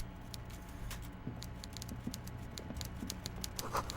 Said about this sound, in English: I can hear a typewriter.